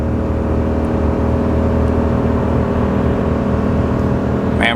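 A RAM 2500 with a HEMI engine and ZF 8-speed gearbox towing up a 6% grade, giving a steady, loud, close drone of engine and road noise with no voices.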